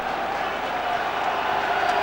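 Continuous, fairly loud stadium crowd noise from football supporters, a dense steady roar with no distinct peaks, heard from a distance as broadcast ambience.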